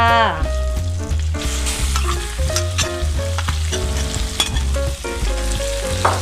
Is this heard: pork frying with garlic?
yes